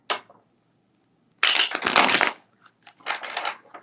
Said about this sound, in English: I'm going to shuffle for this one.